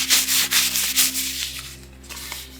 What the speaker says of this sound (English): This is Sony's eco-friendly packaging that they do.